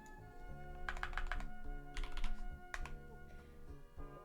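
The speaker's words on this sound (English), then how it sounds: "I've been typing all this shit into Google" Close, rapid typing on a computer keyboard comes in quick bursts of clacking keystrokes with brief pauses, over a steady background tone.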